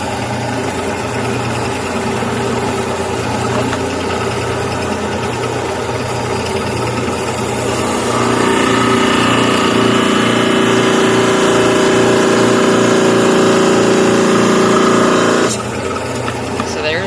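A lapidary saw trims turquoise or fordite stone, a steady loud motor drone that deepens into a harsher grinding whine for several seconds as the blade bites, then eases back, with talk faintly underneath.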